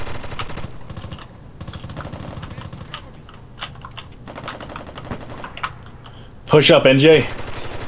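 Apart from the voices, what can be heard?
gunfire in America's Army: Proving Grounds video game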